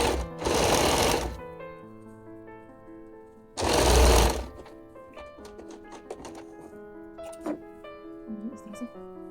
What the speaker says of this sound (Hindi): दोबारा पे सिलाई कर सकते हैं।